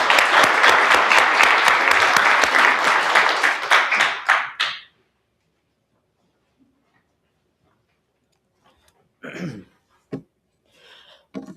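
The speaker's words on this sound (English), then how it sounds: "we're going to give a round of applause to Nathan" Audience applause at a treatment court graduation ceremony, a dense burst of many hands clapping for about four seconds before fading out, followed by silence and a few faint scattered sounds.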